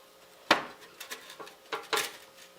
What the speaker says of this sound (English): So I'm gonna flip these over like he did in his video now